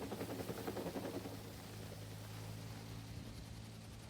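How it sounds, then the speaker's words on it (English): A firefighting helicopter passes overhead, its rotor thudding in a rapid pulsing beat that is strongest at first, then settles into a steady, broad roar with a low engine hum beneath. "I always love looking at the helicopters when it looks like they're blades."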